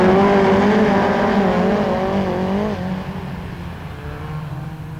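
Autograss race cars lap a dirt track at St Neots, their engines droning loud and continuous with a wavering, revving pitch that eases off midway as the pack moves farther away.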